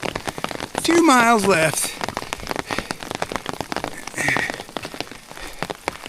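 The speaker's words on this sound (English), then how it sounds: "So we got a combination of hail and rain." Hail and rain patter steadily on an umbrella during a hike across the Colorado Trail prairie, a dense close crackle that runs under a person speaking.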